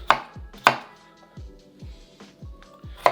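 A knife chops sirloin steak into cubes on a cutting board, making several sharp, close thuds at an uneven pace with short pauses between cuts and no talk.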